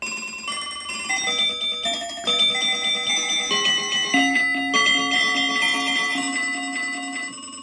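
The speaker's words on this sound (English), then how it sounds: "This is telephone ringing." An electronic telephone ring sound effect from a Livingstone DM650 keyboard repeats in a steady trilling pattern, bright and close, with a melodic bell-like tone pulsing throughout.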